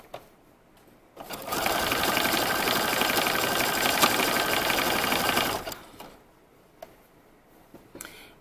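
A sewing machine stitches along a fabric edge on pajama bottoms, a loud, close, rapid mechanical rattle running about four seconds, with quiet handling before and after.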